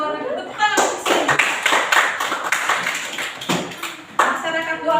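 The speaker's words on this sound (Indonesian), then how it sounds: "Tepuk tangan untuk Cindy." A classroom of students claps for a classmate, a burst of scattered, uneven applause with tapping hands that swells and then thins out, mixed with murmured voices close by.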